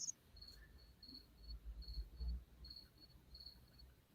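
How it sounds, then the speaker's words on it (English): A cricket chirping in a basement, a faint, thin trill repeating steadily in short bursts against a quiet background with low rumbling. "There's literally a cricket chirping somewhere."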